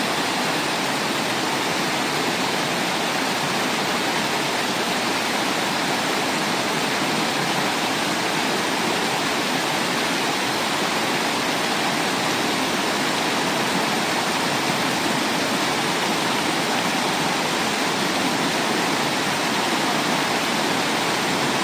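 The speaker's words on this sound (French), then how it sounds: "là, ça fait vraiment une cascade" A waterfall cascades on a river in Ariège, a loud, constant, broadband roar of rushing water that stays unchanged throughout with no voices.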